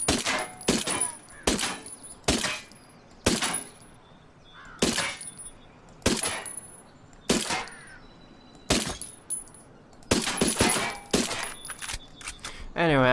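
Gunfire in the video game Ghost Recon Wildlands rings out as single sharp shots spaced roughly a second or two apart, each with a short echoing tail, loud and close.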